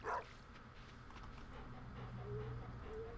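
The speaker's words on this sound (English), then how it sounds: "Yes, doggo. I hear you. You can stop barking now." Farm dog barking in the video game Stardew Valley, one sharp bark at the start, then faint whimpering and yips over a quiet background drone.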